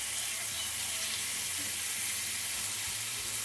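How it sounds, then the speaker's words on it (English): Chicken thighs sear skin side down in hot oil over medium heat, giving a loud, constant, close sizzle and crackle with no pauses or voices. "Let them sear on medium heat until deeply golden brown and crispy around the edges."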